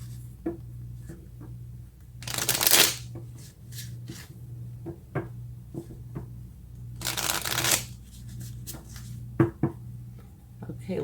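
Tarot cards are shuffled close up, with two long riffling bursts and scattered taps and slides of the deck in between, over a low steady hum.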